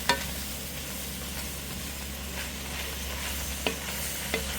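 Vegetables and meat frying down in an oiled pan, a soft steady sizzle with a low hum beneath and a few sharp clicks of stirring, fairly quiet and close.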